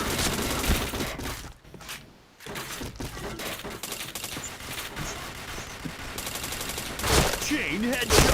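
Dense gunfire fills a shooter video game match: continuous loud bursts and rapid automatic fire, with a brief lull partway through before the shooting resumes at full intensity.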